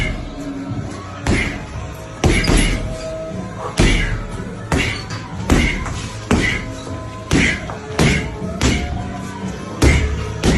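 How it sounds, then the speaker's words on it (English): Heavy punches thudding into a heavy bag during a boxing training camp, landing in a steady series of loud, close thumps about every second or so, with some shuffling between strikes. "Smashing the heavy bag in camp."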